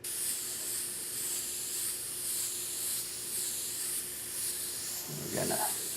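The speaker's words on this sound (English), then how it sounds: "We're gonna spray that, just misting it over it." A spray paint can mists orange paint over a greenish yellow surface, a continuous close hiss with slight pulsing strokes lasting several seconds, joined by a faint brief voice near the end.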